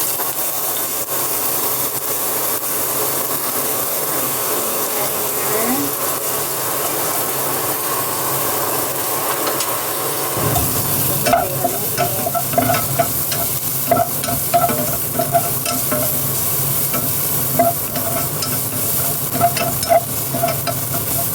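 Ginger slices frying in oil in a pot, a steady close sizzle and hiss that swells after a few seconds with scattered pops and stirring clatter, no voices.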